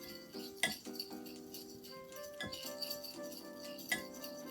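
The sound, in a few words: mixing softened butter in a bowl for cookies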